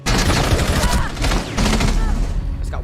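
Rapid bursts of automatic gunfire from the shooter game Rainbow Six Siege crackle loudly in sustained volleys, broken by brief pauses, with a voice faintly present beneath.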